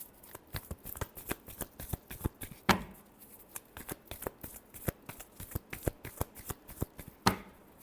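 A deck of tarot cards is shuffled by hand, making rapid riffling clicks and flicks in quick bursts with short pauses, close and fairly quiet, with no voice over it.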